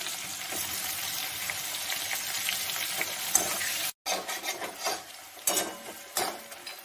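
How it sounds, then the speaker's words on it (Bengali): Chopped onions fry in a pan with a bright, continuous sizzle, broken by scraping strokes of a spoon stirring them, close and fairly loud. "পেঁয়াজগুলো আধ ভাজা হয়ে গেছে"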